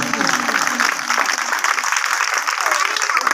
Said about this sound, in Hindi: खुदा के जलाल के लिए जोरदार तालियां।